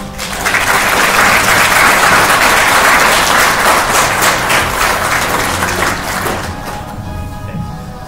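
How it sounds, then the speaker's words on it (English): Audience at an Army field artillery battalion graduation ceremony applauding the distinguished undergraduates, a dense, loud and steady roll of clapping that lasts several seconds before fading slightly at the end. "Please join me in a round of applause for our distinguished undergraduates."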